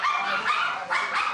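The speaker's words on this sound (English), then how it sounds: "Look at the puppies." Puppies in a busy street pet market bark in quick yappy bursts, three or four close high-pitched yips in quick succession.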